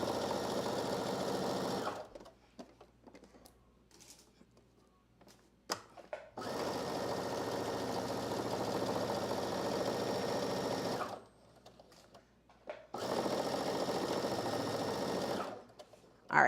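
A sewing machine runs in long steady bursts while stitching the side seam of a McCall's 8053 dress, loud whirring stretches broken by quiet pauses filled with small handling clicks.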